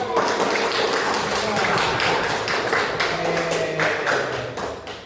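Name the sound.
audience applause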